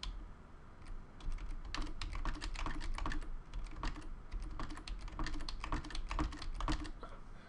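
Computer keyboard typing while working in RPG Maker, using arrow keys and Ctrl+V: a steady stream of quick, soft, close key clicks with no talking.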